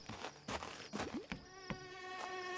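Mosquitoes whine and buzz in Horror Tale 3: The Witch, a steady thin drone with harmonics running through the clip, broken by a few sharp knocks and thuds. No one speaks.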